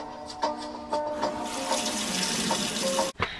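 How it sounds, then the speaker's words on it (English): Tap water on a narrowboat gushing steadily into a sink, a continuous close hiss with a few clunks and gurgles, ending in a sudden cut-off. "Obviously I had water, I just didn't have it running from my taps."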